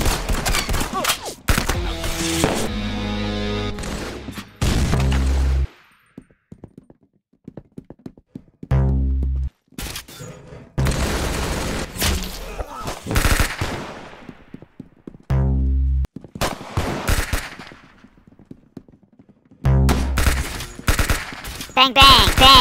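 Rapid bursts of automatic gunfire in the game Arsenal, loud and close, come in several separate volleys with short gaps of quiet between them.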